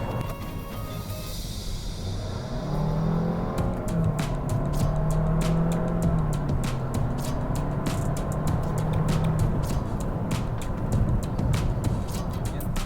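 A 2023 Nissan Qashqai micro-hybrid car accelerating, its engine drone rising and holding steady up close, with light rapid ticking over the broad road noise.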